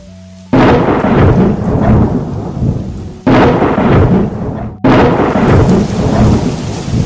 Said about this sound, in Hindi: हे भगवान, ये क्या बिन मौसम बारिश?